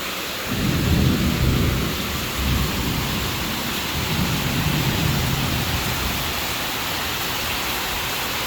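Heavy tropical rain pours steadily during the Philippine rainy season at a boat club in Iloilo, with a deep rumble of thunder rolling through early on, then a dense even hiss of rainfall to the end.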